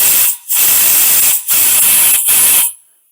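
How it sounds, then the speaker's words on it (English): A pneumatic vacuum check gun tests the valve seals on a Toyota Starlet cylinder head, giving loud, close, steady air hissing in three bursts separated by brief gaps before it cuts off. "We have a vacuum check gun right here that we use on most of our cylinder head situations to verify that the valves to seat contact is sealing properly."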